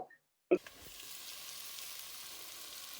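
Potatoes tipped into a pan of onions and shallots cooking in butter for cullen skink: a sudden loud sizzle after a moment of silence, settling into a steady, even frying hiss.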